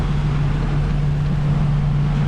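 Several speedboats race past on the busy St. Lawrence River near the 1000 Islands, heard from a nearby boat as a loud, steady engine drone mixed with rushing wind and water noise, with no talk.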